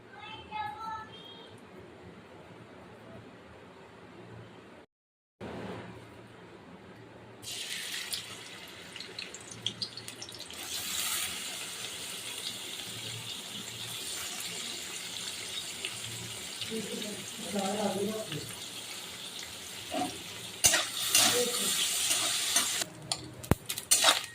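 Small cut coconut pieces frying in oil in a kadai, a steady sizzle with stirring scrapes building louder over time, with brief watery sounds and a quiet start.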